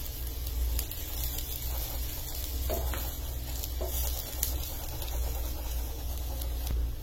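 A buttered kulcha sizzles on a hot tawa with a steady, close frying crackle and light patter that continues evenly, joined by a few faint clicks.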